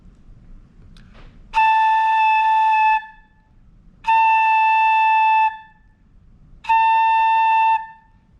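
Three sustained, steady tones blown on a flute headjoint alone, each lasting over a second with short pauses between, clear and close with no talking.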